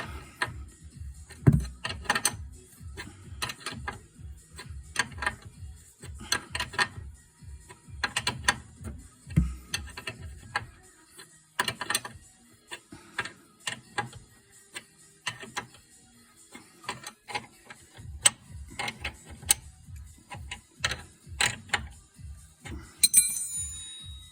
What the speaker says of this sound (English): With the Acme thread and the thrust washer, it really isn't that much force to push these back in.